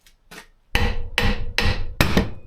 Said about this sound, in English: once you put a bit of tension on it and you tap on there, they normally pop off